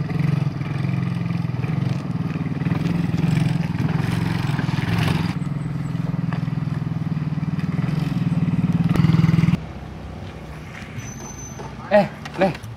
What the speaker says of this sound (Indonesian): Kok ada motor?